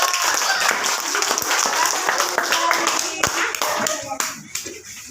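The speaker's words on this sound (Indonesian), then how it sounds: "Tepuk tangan untuk kelompok 2." Grade 3 classroom clapping for a student group, a dense burst of children's hand claps that thins out and fades toward the end, with some voices mixed in.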